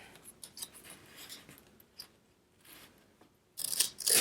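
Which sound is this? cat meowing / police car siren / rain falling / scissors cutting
scissors cutting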